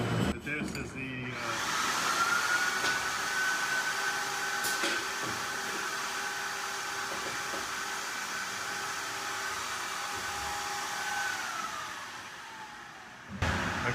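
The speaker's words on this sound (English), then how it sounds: "every time I try to narrate, the vacuum hopper goes off" A vacuum hopper loader in a plastics molding shop roars steadily for about twelve seconds as a loud, airy rush with a faint whine, then cuts off abruptly.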